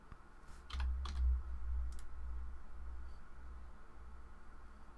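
A computer mouse gives a few sharp clicks early on, close and quiet, over a low steady hum in a still room.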